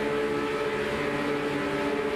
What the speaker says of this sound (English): Revs are rising, and we wait for the call of the green flag.